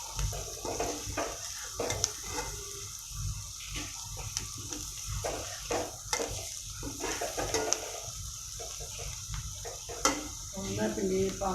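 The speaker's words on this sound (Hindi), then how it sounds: "पूरा अच्छी तरह मिक्स कर लेना।" Okra and onion being stirred and mixed in a pan with a spoon, steady scraping and light sizzling with occasional clinks, close by, while a person talks over it.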